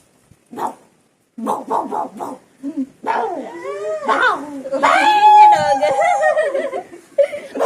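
A dog barks and yips close by, then breaks into drawn-out, wavering whines and yelps that rise and fall continuously.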